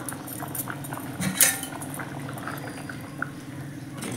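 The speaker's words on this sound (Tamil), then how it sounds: "நமக்கு ஒரு கொதி வரட்டும். எல்லாம் ஒன்று கூடி கொதிச்சிருச்சு." Tamarind curry with coconut milk and thattakkai simmers in a pot, giving a steady low bubbling boil with faint clinks of a utensil against the pot and a brief louder scrape near the middle.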